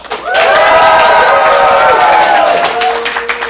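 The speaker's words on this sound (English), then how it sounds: "Blue team, applaud now." A live improv comedy audience claps and cheers loudly for the blue team, a dense burst of applause with whoops that rises quickly, holds, then tapers off.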